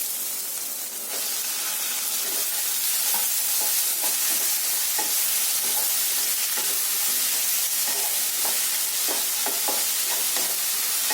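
Tomatoes sizzle loudly with fried onions in a pan for a Kerala-style egg curry with coconut milk. A steady hiss runs throughout, with clinks and scrapes as the mixture is stirred.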